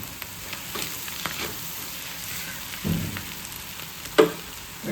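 Boiled tripe (botti) frying in a pan gives a soft continuous sizzle with occasional stirring scrapes and a sharp utensil knock, heard close up without talk.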